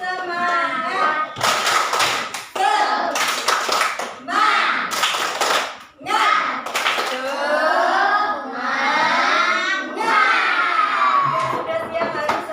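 An audience in a teacher training class does a rhythmic spirit clap, tepuk semangat, with bursts of patterned hand claps mixed with voices chanting and talking in between.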